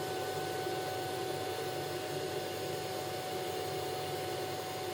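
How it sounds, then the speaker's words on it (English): A Kärcher Puzzi 10/1 runs its vacuum alone to extract water from upholstery, giving a steady, fairly quiet motor drone with a constant airy hiss throughout and no talking. "leave only the vacuum on to extract the remaining water from the"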